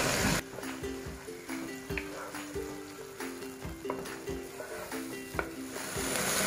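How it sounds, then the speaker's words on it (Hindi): Chicken and beaten yogurt being sautéed in a pot for chicken korma, with a soft sizzle under rhythmic spoon scrapes and knocks against the pot, repeating roughly every half second. "अब इसे हम दही के साथ अच्छे से भून लेंगे।"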